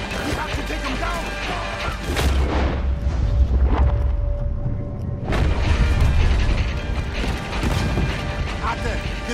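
Heavy booming blasts and mechanical clanking from a Red Dead Redemption 2 battle, with repeated cannon shots and crashes filling the scene, loud and close.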